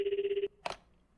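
A telephone rings in a horror video game, a quick run of rapid, bell-like pulses that stops abruptly and is followed by a short click.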